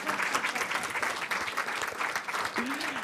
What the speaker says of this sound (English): Oh, we've got a clap for Sharon.